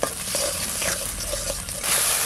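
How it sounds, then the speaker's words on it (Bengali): Ground masala paste with a little Kashmiri chilli powder and a splash of water sizzles in a pan while being stirred, a close, steady hiss with soft scraping strokes. "এবার মশলাটা ভালো করে কষে নেব।"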